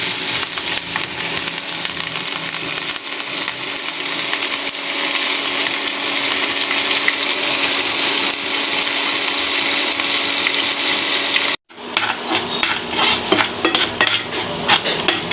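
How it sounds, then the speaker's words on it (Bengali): Onion and green chilies sizzle loudly in hot oil while being stirred, a dense continuous frying hiss with scraping, briefly cut off near the end before resuming. "দিয়ে দিচ্ছি পেঁয়াজ আর কাঁচামরিচ।"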